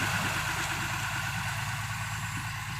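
A car engine idles steadily after repair, with a close, even mid-to-low rumble and no other sounds.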